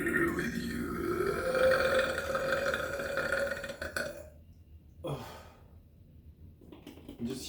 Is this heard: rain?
no